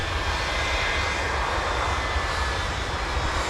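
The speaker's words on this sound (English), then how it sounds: "So the 75 that's about to pass by us is actually headed to Detroit." Boeing 757 jet airliner taxiing past at MSP airport in winter, a steady, fairly loud engine roar and whine holding throughout without talk.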